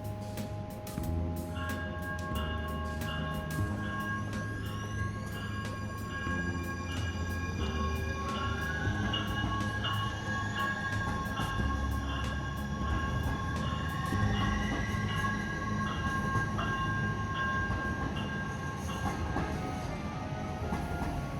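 A Metro Blue Line light rail train sits at a downtown station with doors open on both sides, its steady rumble continuing under chiming tones and a rising electric whine of motors, loud and close with no talk.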